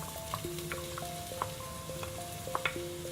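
Onion sizzling in vegetable oil in a pot for lentil soup, a steady close crackle of frying with faint scattered pops and light stirring.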